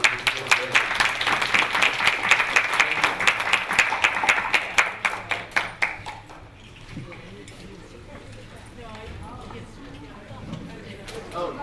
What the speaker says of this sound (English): Again, some applause for our panelists.